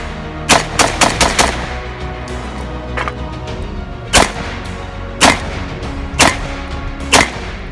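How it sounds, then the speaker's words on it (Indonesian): Loud, sharp rifle shots from an AK-47 assault rifle ring against a steel plate target, a rapid burst of about six cracks followed by four spaced single shots, each with a short echoing decay. "aqui é um tiro muito forte"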